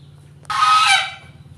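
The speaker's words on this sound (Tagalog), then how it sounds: "Ay, sorry po, may gansa." A single goose honk rings out nearby, one loud nasal call lasting about half a second over a low rhythmic machine hum in a rural setting beside a rice mill machine.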